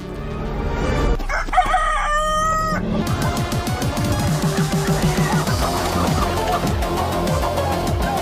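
A rooster crows loudly and close in an AI-generated farmyard scene, while hens keep up a steady, rhythmic clucking that continues after the crow fades.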